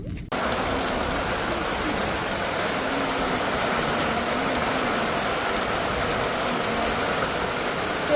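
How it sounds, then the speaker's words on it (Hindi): Heavy rain falls steadily in a hill village with dry fields, a dense, loud, continuous hiss of drops on surfaces lasting throughout after a brief quiet start, with no voices heard. "दोस्तों बहुत ही बढ़िया बारिश हो रही है,"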